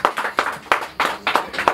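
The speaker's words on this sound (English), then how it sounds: "So you clap for her." A small group of people claps for an 18-year-old birthday girl, steady rhythmic hand claps close by, in several quick bursts with brief gaps between them.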